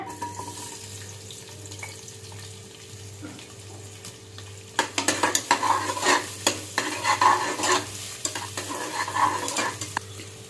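Onions hit hot oil in a pan, a steady hum giving way to a burst of crackling sizzle and stirring scrapes that continue loudly to the end, with no voices.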